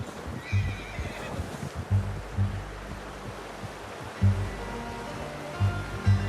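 A horse whinnies and snorts several times in the video game Red Dead Redemption, over a low rumbling background, with soft hoof sounds in between.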